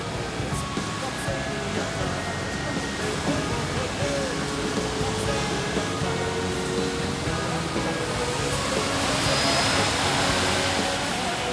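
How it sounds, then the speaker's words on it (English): Boeing 777 airliner taxiing toward Terminal 3 at Ben Gurion Airport: a continuous broad roar of jet engines with a faint high whine, growing slightly louder near the end. "You're watching 777 taxi towards Terminal 3."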